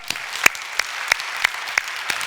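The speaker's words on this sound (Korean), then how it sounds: "하나님께 영광에 박수합시다" A church congregation claps sparsely, with a handful of distinct sharp claps standing out at an even pace over a light background of applause.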